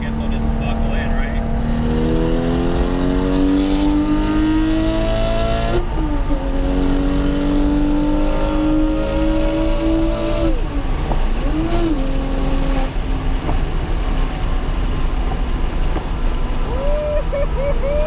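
A turbocharged converted GT2 car pulls hard in third gear, its engine note climbing steadily through repeated rising sweeps as it accelerates, loud and close from inside the cabin, with brief voices over it.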